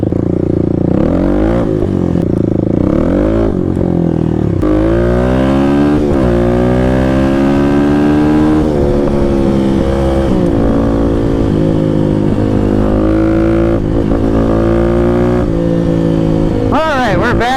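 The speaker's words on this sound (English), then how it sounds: "we're back on the KLX." A Kawasaki KLX300 dual-sport motorcycle ridden through urban streets, its single-cylinder engine loud and close, revving up and down through repeated gear changes with rising and falling pitch over wind rush.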